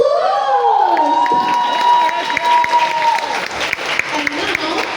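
An audience breaks into a round of applause and cheering, loud and close, with shouts and whoops from the crowd over a sustained tonal sound in the first few seconds.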